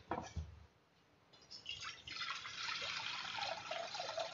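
Water is poured into a pan for boiling Hakka noodles: a brief clatter, a short pause, then a steady rising splash and gush that keeps going to the end.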